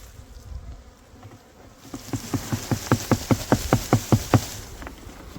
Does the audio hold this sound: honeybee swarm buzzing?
yes